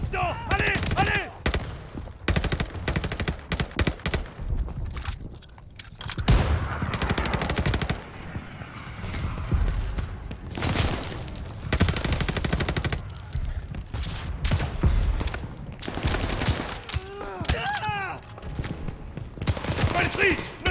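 Dense bursts of automatic gunfire and explosions rattle continuously in a Call of Duty: Vanguard battle, with shouted French voices mixed among the shooting.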